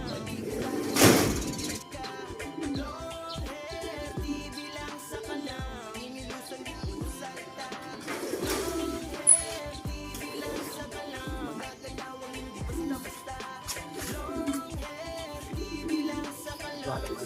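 Racing pigeons arriving at the loft during a race, with soft cooing and bird calls over a busy background of knocks and movement.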